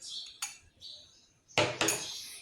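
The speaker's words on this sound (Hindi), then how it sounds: "तो इस तरह मैं इस चीनी को अब 3 दफ़ा डाल के इसमें मिक्स करती हूँ" A utensil scrapes and clinks against a bowl while powdered sugar is mixed into cake batter, with a few sharp knocks and quieter scraping strokes in between, close and fairly soft.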